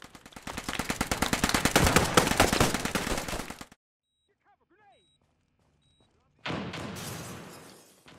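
Loud, rapid bursts of automatic gunfire from a World War II video game, followed by a quiet gap with faint tonal blips and then another heavy burst of shooting.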